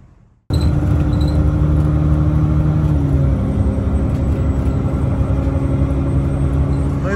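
Steady bus engine rumble and whir, close and loud, starting abruptly after a short quiet moment and holding evenly throughout while waiting at a stop in a New Zealand bay-side town.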